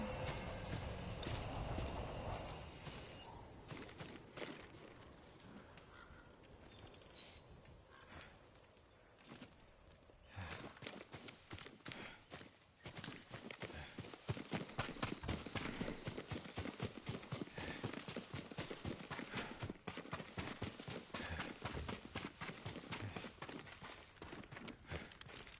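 A horse's hooves clip-clop in a steady walking rhythm in the game Ghost of Tsushima, close and distinct, the beat quickening and growing louder partway through over low ambient wind.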